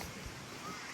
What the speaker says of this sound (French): Ah, le vent.